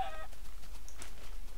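A chicken in the video game Minecraft clucks faintly in short blips over a quiet low background hum, with no talking.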